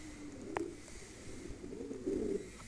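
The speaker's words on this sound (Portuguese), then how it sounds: "Tem uns pombos rodando aí, ó." Several returning pigeons coo around a loft, low burbling calls swelling near the end, with one brief sharp sound early on and no voices.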